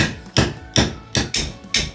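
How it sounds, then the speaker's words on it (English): Five sharp, evenly spaced hammer blows strike a hatchet into wood to split kindling, loud and close with brief pauses between hits. "I'm going to use this hatchet and this hammer to cut these into pieces of wood"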